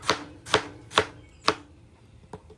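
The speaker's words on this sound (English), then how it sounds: "I'm going to give this a quick chop first" Four sharp, evenly spaced chops strike a griddle as burger beef and vegetables are cut up, each hit loud and close, followed by a fainter tap and quiet background.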